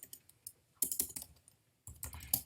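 Fingers type on a computer keyboard to enter a class period number, close, light key clicks in two short bursts separated by a brief pause, with no speech.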